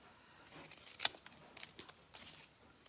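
Scissors trimming paper for chunky paper bead jewelry: a few quiet, crisp snips spread over a few seconds, one sharper cut standing out, in a quiet room.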